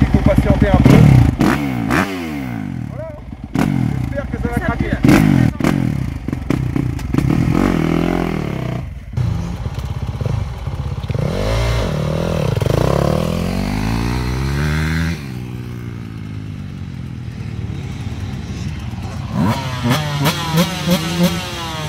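A Yamaha YZF 250 dirt bike rides around a track, its engine revving up and down in repeated rising and falling sweeps, loud and close, with clattering and scraping along the way and a few voices over it.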